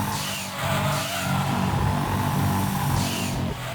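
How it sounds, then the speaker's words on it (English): Racing cars in Gran Turismo 2 on the Grand Valley circuit, a steady mid-pitched engine drone with rising revs that holds loud and continuous throughout, with no talk. "Why is this game you can hear like cars in the background?"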